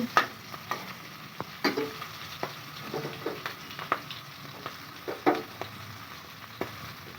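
Green chillies fry in oil in a pan alongside curry leaves, a soft steady sizzle marked by repeated light scrapes and taps of a spatula at an irregular rhythm.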